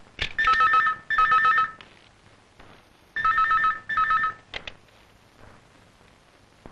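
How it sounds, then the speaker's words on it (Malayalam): A telephone rings in the next room, its bell sounding in two pairs of clear double rings, moderately loud, followed by a quiet room. "നീ പോയി അപ്പുറത്തെ മുറിയിൽ ഫോൺ എടുത്തേ"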